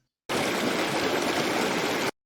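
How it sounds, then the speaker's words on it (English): A steady rush of flowing water starts abruptly, holds an even, dense wash for about two seconds, then cuts off cleanly. "river water flowing,"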